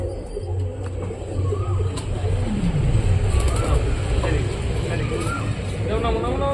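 Pet fancy pigeons coo in low, repeated rolling calls close by, with other birds chirping and people talking over a steady background hum.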